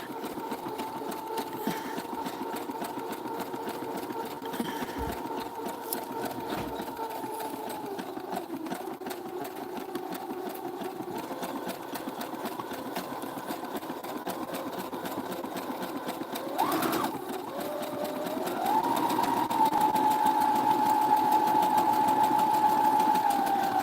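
A sewing machine stitches through layered paper and fabric, running at a slow, steady pace with a continuous mechanical whir and rapid needle clatter, holding close and even throughout before rising slightly in speed and pitch near the end.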